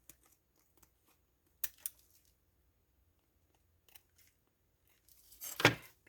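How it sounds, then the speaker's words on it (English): A few sharp snips of scissors cutting a small piece of material for a UV resin craft project, brief isolated clicks in a quiet room, followed by a louder rustling cut. "I need to cut a little bit of this off."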